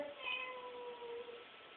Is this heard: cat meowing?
yes